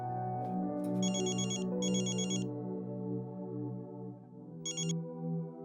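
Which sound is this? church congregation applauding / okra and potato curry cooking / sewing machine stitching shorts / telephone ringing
telephone ringing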